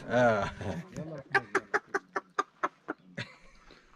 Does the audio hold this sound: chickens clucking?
yes